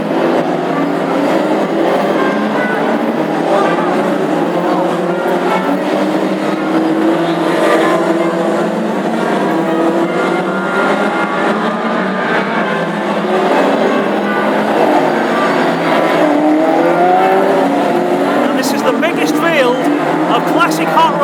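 Classic hot rod race cars roar around the track on an installation lap before a championship heat at Ipswich, a dense, continuous engine drone with revving and passing cars at steady high volume throughout.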